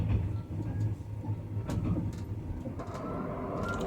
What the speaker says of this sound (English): I just wanted you to hear how noisy it is in the train